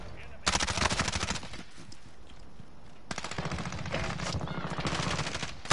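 Bursts of rapid automatic gunfire from a Call of Duty match rattle loud and close in two long sustained volleys with a brief lull between, over a game's background noise.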